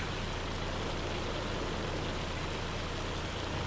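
Rain falls in the Farming Simulator 25 video game as a dense, even wash of noise that holds at the same level throughout, with no talking over it.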